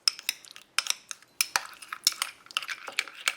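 Dates squashed with a utensil against a dish, giving a run of close, sharp clicks and scrapes in an uneven rhythm with no talking.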